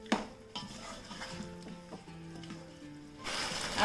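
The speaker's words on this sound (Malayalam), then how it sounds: "ഈ വേവിച്ച് വെച്ചിരിക്കുന്ന ചിക്കൻ ഇതിലേക്ക് ഇട്ടിട്ട് ഇളക്കി കൊടുക്കാം" Cooked chicken is stirred into tandoori masala in a pan, giving soft scraping and clinking of a spoon against the metal with light sizzling, fairly quiet and close.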